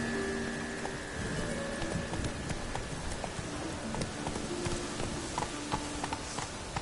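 Roach, Geralt's horse in The Witcher 3, galloping with a steady, rapid clip-clop of hooves, close and continuous over a soft wash of ambient noise, with no talking.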